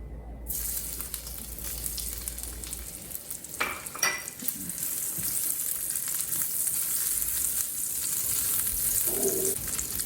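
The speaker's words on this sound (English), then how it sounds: "I add the ginger, and we're going to let it cook for about 30 seconds" Ginger fries in hot fat in a pan, making a steady close crackling sizzle. A couple of brief utensil clinks sound near the middle.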